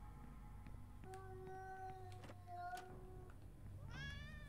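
Cats meowing in the video game Yuppie Psycho, several short tonal meows at varied pitches coming one after another at close range, with a low background hum and a rising trill near the end.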